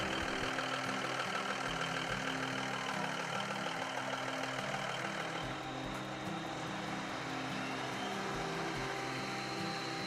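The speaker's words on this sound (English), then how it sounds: "Engine is a Cummins NTC 400." A Peterbilt 378 tractor truck with a Cummins NTC 400 diesel engine and 13-speed transmission idles steadily nearby, a continuous low rumbling drone with faint knocking and no talk.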